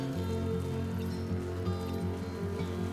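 Steady rain in the video game Death Stranding, a constant close hiss of falling water with a low rumbling bed beneath, unbroken and even throughout.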